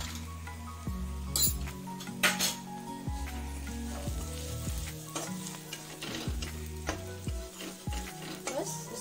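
Turmeric, coriander powder, garam masala and red chili powder sizzle and fry in a pan in a village home kitchen, a steady close hiss broken by repeated metallic clinks of a stirring spoon against the pan.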